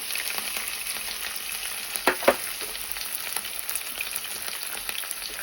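Green chillies and onions fry in two spoons of oil in a pan, making a constant crackling sizzle with a couple of sharper pops near the middle and no speech.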